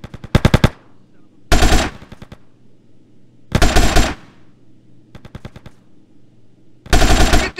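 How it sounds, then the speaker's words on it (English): Machine gun covering fire in Grand Theft Auto, heard as four loud, close bursts of rapid automatic shots separated by short gaps, with a low steady hum running underneath. "Give me some fucking covering fire."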